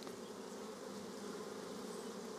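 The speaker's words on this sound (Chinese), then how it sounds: "这一箱的蜜蜂呢，就没有那箱蜜蜂多" Chinese honeybees in a hive box make a steady, dense buzz that stays even throughout, soft and continuous with no voices.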